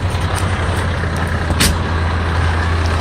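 A water truck idles at a roadside pull-off, its engine giving a low steady rumble, with a short hiss partway through, like an air brake release.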